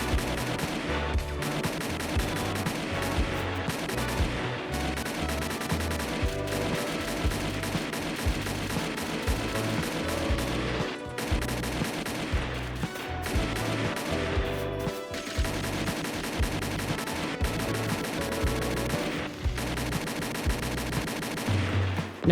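Type 89 rifle tap-fired in the Roblox game Polybattle: a long, dense stretch of loud, rapid gunfire, short bursts and single shots in close succession over a steady layer of battle noise, with no talking.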